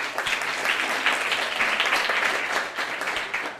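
Audience applause at an awards presentation, a full, steady clapping from many hands that holds throughout at an even level.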